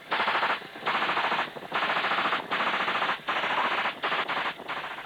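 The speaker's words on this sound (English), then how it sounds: "The aircraft are fitted with general-purpose machine guns. Okay, target fed. And opening fire." A general-purpose machine gun fires from a military helicopter in long sustained bursts, a dense loud rattling roar broken by short pauses between six or so strings of fire.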